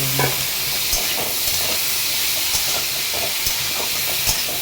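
Potatoes sizzle and hiss steadily in a hot pan, with occasional scraping taps of a spatula as they are stirred.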